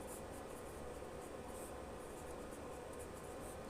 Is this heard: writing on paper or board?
yes